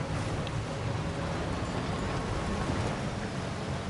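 Steady rain in a video game, an even, unbroken hiss that holds at moderate loudness throughout, with a faint low rumble underneath.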